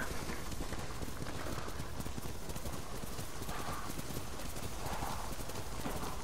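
Horse hooves clip-clop steadily in Ghost of Tsushima, a continuous rhythmic trotting under a dense bed of wind and ambient game noise, with no voices over it.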